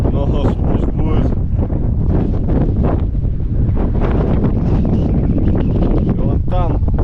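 Strong gusting wind batters the microphone outdoors in stormy mountain weather near a monastery, a loud continuous roar, with voices talking underneath.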